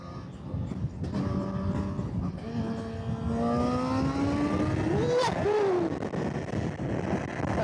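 A Honda CB1000 Hornet SP motorcycle accelerates hard, its engine note climbing through rising pitch sweeps with a quick gear change before revving higher again, close and loud over wind rush.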